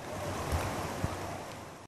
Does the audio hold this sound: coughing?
no